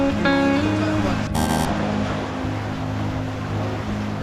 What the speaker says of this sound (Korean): 무슨 폭포에 왔습니다. 폭포.